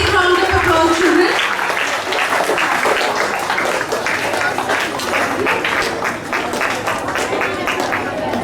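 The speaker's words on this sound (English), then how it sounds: "Please give them a big round of applause, children." Children in a school assembly clap together in a loud, sustained round of applause, with a brief adult voice at the start and steady dense clapping filling the rest.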